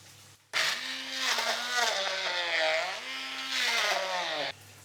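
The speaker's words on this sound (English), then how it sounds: "I'm gonna get a blender and mush them together" A blender whirs steadily while mashing chickpeas into a paste for salmon and chickpea fishcakes, loud and close, its motor pitch dipping and rising as the load shifts, then cutting off abruptly.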